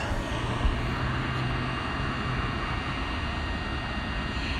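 A drone flies at about 200 feet, giving a steady, even engine and propeller drone with broad noise throughout, no talking.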